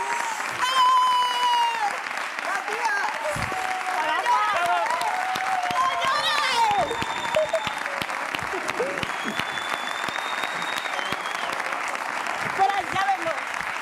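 A TV studio audience applauds loudly and continuously, dense clapping filling the whole stretch with voices and shouts rising over it.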